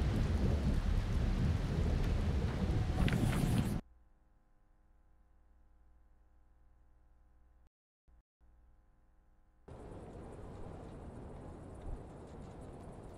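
Thunderstorm in the survival game Mr. Prepper: a loud, dense roar of rain and thunder fills the first few seconds, drops to a low hum, then the heavy storm noise returns more softly near the end.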